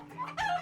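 Farm chickens cluck and call in short bursts, a brighter squawk rising near the end, fairly close and loud with no talk.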